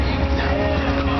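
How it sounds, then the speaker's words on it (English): V8 drag racing cars rumble continuously in the background at a drag strip, a steady low engine drone that runs through the whole moment without clear individual passes. "So you can hear some V8s roaring in the background right now."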